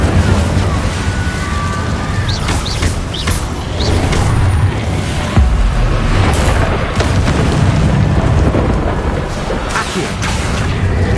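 An Incendio fire spell cast in a Harry Potter video game, a loud booming burst of flame with rumbling crackle that continues densely throughout, with several whooshing swells.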